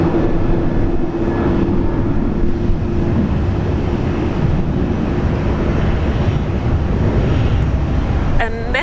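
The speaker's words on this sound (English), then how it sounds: "we've got another domestic departure. This one is flight 336." Domestic airliner departing Brisbane for Melbourne, a steady broadband engine roar that holds loud and constant throughout, with a tonal hum underneath and wind buffeting the microphone.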